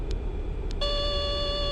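Cockpit alarm in an MD-80 airliner in the X-Plane 11 flight simulator, a steady multi-tone electronic warning that starts abruptly and sounds continuously, loud and close, after two faint short beeps.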